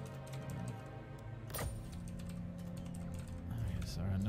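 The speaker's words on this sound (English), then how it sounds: "you typing out the poll" Typing on a computer keyboard gives a run of quick irregular key clicks up close, with a louder clack partway through, while people talk quietly in the background.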